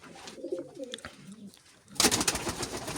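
Fancy pigeons in a Bulgarian loft coo softly at close range, then a sudden broadband rustle, like flapping wings, takes over.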